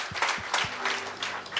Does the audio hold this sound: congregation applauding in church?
yes